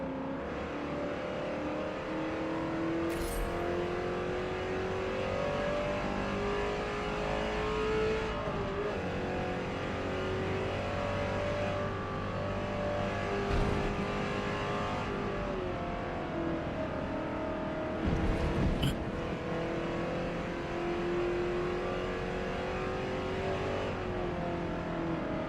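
A torquey 7-litre car engine in Gran Turismo 7 drones and revs continuously, its pitch climbing and dropping through repeated gear changes, loud and unbroken throughout.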